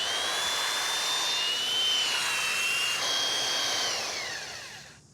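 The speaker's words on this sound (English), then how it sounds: "The glue's set, so time for a little tickle up with the sander." A power sander smoothing the glued joints of a wooden gate, a loud, steady whine with a drifting pitch that runs continuously and then winds down at the end.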